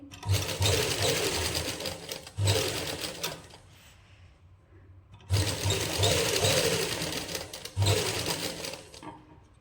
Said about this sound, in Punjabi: ਇਹਨੂੰ ਆਪਾਂ ਖੋਲ ਕੇ ਜਿਪ ਨੂੰ ਇਹਦੇ ਉੱਪਰ ਸੀਨ ਕਰ ਦੇਣੀ ਡਬਲ